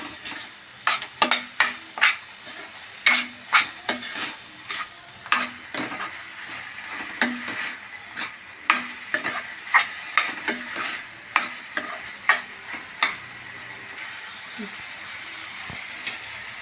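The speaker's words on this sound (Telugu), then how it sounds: "బీరకాయ ముక్కలు మగ్గిన తర్వాత ఒక స్పూన్ కారం వేసుకుని కారం కూర అంతా కలిసే వరకు తిప్పుకోవాలి" Ridge gourd curry with a spoonful of chili powder being stirred in a pan, rhythmic scraping and clinking of a spoon against metal over a low sizzle, about a dozen strokes with no talk.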